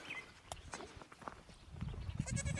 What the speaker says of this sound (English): So I'm gonna have some mad goats this morning.